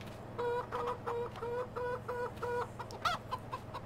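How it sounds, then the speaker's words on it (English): Chickens cluck repeatedly in Farming Simulator 2015, a run of close, evenly spaced clucks over a low steady farm hum, with no voices. "Just talking to the chickens."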